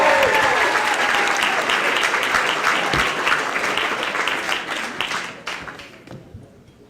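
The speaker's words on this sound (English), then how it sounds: "start clapping it up for Ray W." Comedy club audience applauding as a comedian takes the stage, loud dense clapping with a few whoops at first, thinning to scattered claps and then fading out near the end.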